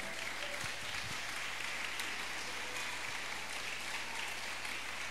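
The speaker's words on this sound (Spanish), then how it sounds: "Dele ese aplauso al Señor en esta hora." Congregation applause during a Spanish-language church service on the healing power of Jesus, a steady, fairly distant wash of clapping throughout with a faint low hum beneath.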